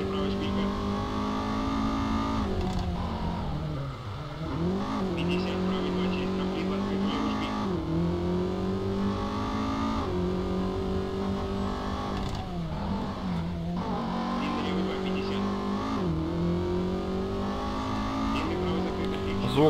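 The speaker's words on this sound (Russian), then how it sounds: "Звук мотора классный у этой машины" Rally car engine in the game Colin McRae Rally 2005, droning loudly and steadily with repeated rising revs and gear-change dips throughout, with no pauses.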